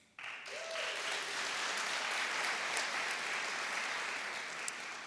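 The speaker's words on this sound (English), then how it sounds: "We might want to hold our applause till the end." Audience applause at a school awards day ceremony, a steady wash of clapping from a crowd heard at a distance, fairly faint but continuous, with a brief tonal sound near the start.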